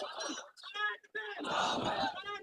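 A mosque congregation chants slogans together during an annual religious gathering, loud massed voices rising in two bursts separated by a brief pause.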